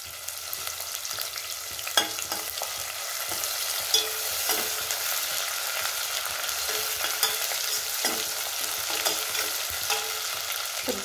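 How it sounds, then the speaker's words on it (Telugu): Green chillies and onion fry in a pan with a soft, steady sizzle, broken by occasional sharp clicks and scrapes of stirring, close and fairly quiet with no voices. "పచ్చిమిర్చి చిల్లి ఆనియన్ అన్నీ వేసుకొని ఫ్రై చేసుకుంటున్నాను"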